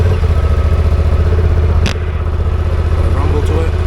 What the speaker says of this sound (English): this is the bike starting up